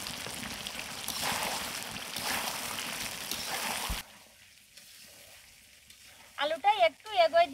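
Fried potatoes tip into a pan of spiced country chicken curry, where the oil sizzles and hisses loudly for several seconds before it quiets, followed by a few brief clinks and scrapes near the end.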